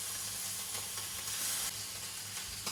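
Very lean bacon sizzles in a hot cast iron pan, giving a continuous crackling hiss with small pops, close and steady throughout.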